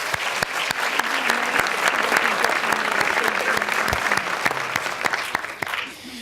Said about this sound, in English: Let's have another round of applause for all of the research presentations.